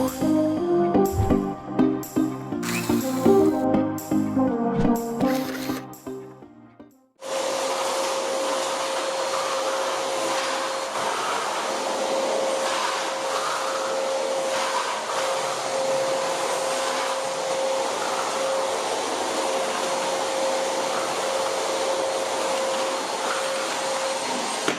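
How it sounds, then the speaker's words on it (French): Vacuum cleaner running continuously on a bedroom floor, a steady loud whine with a constant pitched tone, starting abruptly after a stretch of music. "on commence déjà par l'aspirateur"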